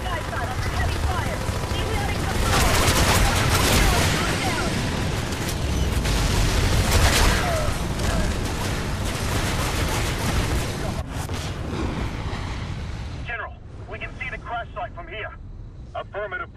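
Heavy gunfire and explosions from a crash-site battle in the Section 8 video game on PS3: dense bursts and booms roll continuously at high volume under radio voices, then thin out into scattered pops near the end.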